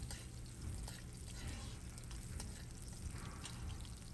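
Garlic frying and being stirred in a hot pan for dinuguan, a steady close sizzle with occasional scraping of the spoon, continuous and moderate in level.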